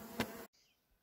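Honeybees at an apiary hive preparing to swarm give a brief close buzz that swells, then cuts off abruptly, leaving near silence with a faint fading hum.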